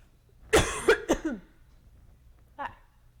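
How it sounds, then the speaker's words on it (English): A few sharp, close coughs in quick succession, followed by a short pause and one more cough. "And the coughing, that comes too."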